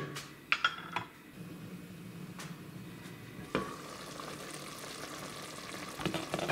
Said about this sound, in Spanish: Vamos a dejar aquí a que hierva un ratito.